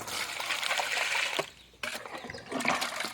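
Tap water runs and splashes into a container after washing up at a country-chicken coop, a steady near gush that drops briefly and then resumes.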